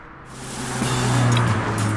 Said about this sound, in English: Otto nudged Snoozy as the vehicle passed by.